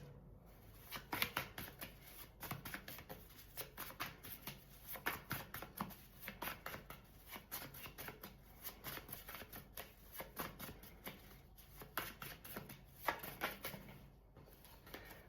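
Tarot cards shuffled continuously for about fifteen seconds, a steady run of crisp riffling flutters and soft slaps close to the microphone, with no voices.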